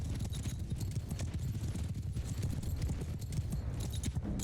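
Cavalry horses galloping in Mount & Blade II: Bannerlord, a dense, continuous drumming of many hooves with a steady low rumble, loud and close throughout without pause.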